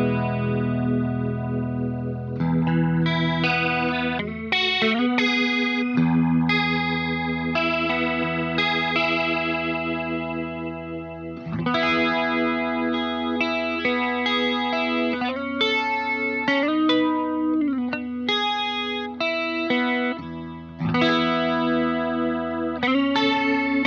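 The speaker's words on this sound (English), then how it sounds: "I have the rotary set the speed linked to my second expression pedal" Electric guitar runs through an Axe-Fx II rotary speaker effect whose speed is swept with an expression pedal, sustained chords and melodic lines swirling and warbling as the rotation ramps, close and alone.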